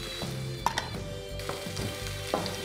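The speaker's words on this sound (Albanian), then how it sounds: "skuqim pak këtu" Food with Italian tomatoes fries in a pan while preparing a chicken thigh stew, giving a soft, steady sizzle with scattered faint pops and clicks, heard alone without talk.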